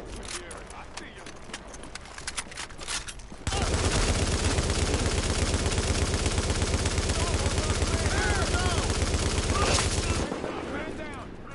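Sustained automatic gunfire in the video game Tom Clancy's The Division, a loud rapid rattle starting after a few scattered shots and running for several seconds before cutting off, with voices shouting around it.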